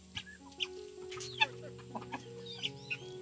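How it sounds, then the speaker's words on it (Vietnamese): Hens on a farm clucking close by: scattered short clucks and squawks in an uneven rhythm, fairly quiet, over a faint steady background hum with no talk. "Mấy cái bà gà này thiệt tình."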